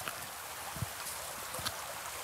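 The Broncarrier brook, a small stream beside two old farms in the hills near Ambialet, flows with a faint, steady wash of water noise. It is heard alone with no talk.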